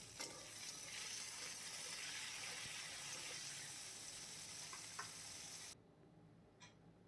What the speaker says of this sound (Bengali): এখন এই যে বেগুনগুলোকেও ভেজে নেব।